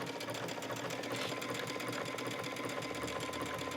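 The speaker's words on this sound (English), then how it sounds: "Just take it to the sewing machine and then" A sewing machine stitches a knit fabric hem for a maxi skirt, its needle running in a steady, fast continuous whir that holds close and even throughout with no pauses.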